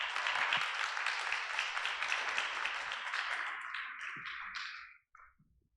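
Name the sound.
congregation applauding Pastor Torres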